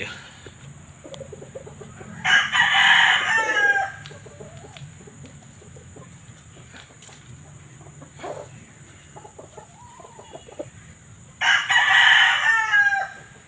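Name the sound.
rooster crowing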